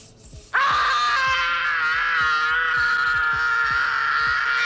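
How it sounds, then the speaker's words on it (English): Kevin's famous scream from the film Home Alone, a sudden loud, sustained high-pitched yell that starts after a quiet half-second and holds at full strength to the end, with a rhythmic thumping of music beneath it. "Kevin slapping his hands on his cheeks and screaming like he had just discovered moisturizer for the very first time"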